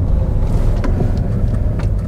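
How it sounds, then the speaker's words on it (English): A Citroen C4 Picasso revs in a low, steady rumble as its wheels spin, with a few brief higher scrabbling bursts over the droning engine. "Bit of wheel spin."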